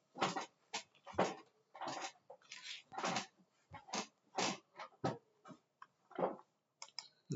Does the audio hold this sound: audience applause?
no